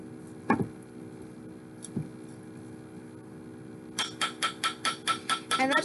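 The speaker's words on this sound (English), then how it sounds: "now I'm going to go back around with the round side of my chasing hammer to do my hammered" The round side of a chasing hammer strikes a wire bangle, first as a few scattered taps, then as a quick, steady run of sharp metallic blows, close and fairly quiet over a low hum.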